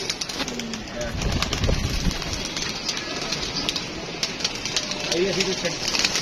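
Pigeons coo and flutter at a pigeon-keeping gathering, soft repeated calls in the foreground over a dense, steady crowd murmur with people talking throughout.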